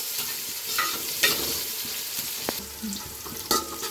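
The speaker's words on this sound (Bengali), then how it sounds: "পেঁয়াজটা হালকা হালকা এরকম একটু নেড়ে নিতে হবে" Onion stirred in a pan of hot oil with dry chilli and bay leaf for plain pulao, a steady sizzle broken by scraping spatula strokes and a few sharper knocks against the pan, with no voices.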